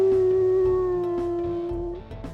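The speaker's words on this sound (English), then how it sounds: "Let's go ahead and listen to her howls as well." A single long, steady wolf howl from the video game WolfQuest, a clear sustained tone held for about two seconds before trailing off, close and loud over soft background game sounds.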